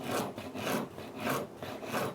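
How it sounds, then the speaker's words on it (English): A knife saws back and forth through grilled Polish kielbasa sausage, about four rhythmic rasping strokes close up, with no talking. "Let's go ahead and get some of these sliced up."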